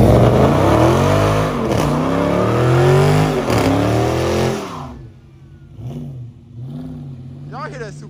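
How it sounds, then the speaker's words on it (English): Supercharged 2020 Dodge Scat Pack roars close and loud through a sustained high rev and burnout before the engine note falls away to quieter revving and idle, with people talking and shouting over it. "Y'all hear that supercharger?"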